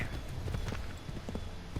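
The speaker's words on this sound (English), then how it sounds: "The horses in this game is so bad." Horse hooves clip-clop in a steady trotting rhythm in the video game Assassin's Creed III Remastered, moderately faint over a low background rumble.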